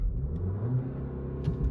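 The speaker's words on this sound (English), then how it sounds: "we're gonna go full brake, full gas" A Porsche with traction control off in sport mode launches from full brake and full throttle, a steady loud engine roar and rumble that holds throughout without talk.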